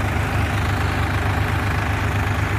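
A New Holland Excel 4710 4WD tractor engine runs under load in first gear with a steady, loud, low diesel drone and an even chugging throb. Nobody speaks over it.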